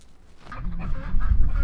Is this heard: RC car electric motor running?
no